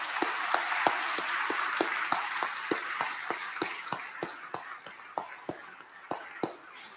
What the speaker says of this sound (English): give God a round of applause to God